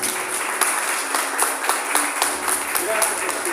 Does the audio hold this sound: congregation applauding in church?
yes